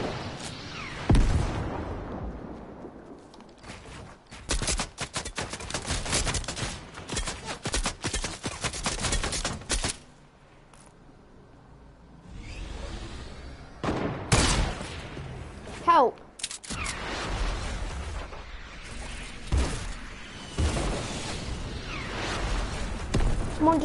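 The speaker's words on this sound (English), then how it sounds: "They're firing an RPG." An RPG fired in a shooter game amid rapid bursts of gunfire and loud explosions, heavy and continuous with a quieter gap midway.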